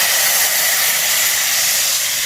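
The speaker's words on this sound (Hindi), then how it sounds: "इसमें इस तरह मैं तड़का लगा दूंगी" Hot oil tempering (tadka) poured over kofta kadhi in a home kitchen, giving a loud, steady broadband sizzle and hiss that holds evenly for a couple of seconds with no talk.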